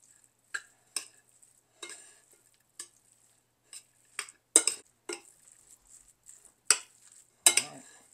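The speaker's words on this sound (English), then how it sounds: "So we're just going to stir this in really good." A spoon stirring Italian sausage, spinach and mozzarella calzone filling in a bowl, with a dozen or so separate clinks and scrapes spaced irregularly, close and clear against near silence.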